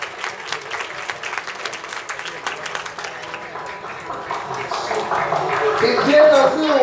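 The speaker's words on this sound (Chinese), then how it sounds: "掌声鼓励" Sustained audience applause at a teachers' appreciation banquet for university students, steady dense clapping that swells louder toward the end, with a voice speaking over it.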